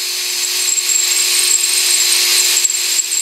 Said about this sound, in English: the next job is to drill the hole